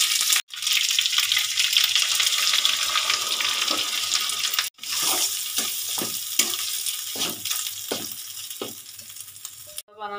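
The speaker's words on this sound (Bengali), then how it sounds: "এবার আমি দিয়ে দেবো ছোলার ডাল।" Chana dal hits hot mustard oil seasoned with white cumin and ginger paste and sizzles in steady, loud frying that runs the whole time, with stirring scrapes and brief breaks.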